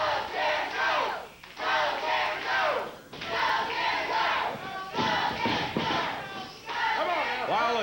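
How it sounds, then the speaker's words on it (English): A wrestling arena crowd chants in rhythmic bursts during a USWA match with Jerry Lawler, loud and near, several surges of massed voices separated by brief dips. "Go, Jerry, go, says the crowd."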